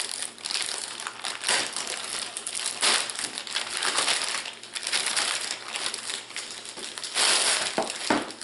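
A plastic bag crackles and crumples continuously and up close during the unboxing of an Amazon Fire Recast, loud busy crinkling with no talk.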